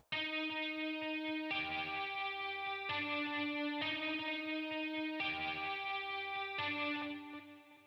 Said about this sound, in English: Boom, some distortion action over here.